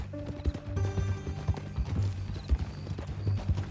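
Horse in Red Dead Redemption 2, close and clear: steady clip-clop of hooves on the ground, with a whinny rising near the start, no talking.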